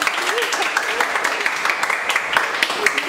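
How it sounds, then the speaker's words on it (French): Applause from a group at a children's practice session, a dense crackle of clapping that runs steadily throughout with voices talking over it. "Applaudis"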